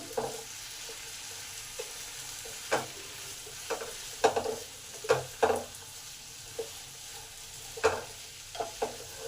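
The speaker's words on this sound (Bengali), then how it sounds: "দু মিনিট ধরে আলু আর কুমড়ো একসঙ্গে ভেজে নেবো" Half-boiled potato and cut pumpkin fry together in a pan, a low, steady sizzle punctuated by irregular sharp scrapes and knocks of a stirring utensil, close and without talk.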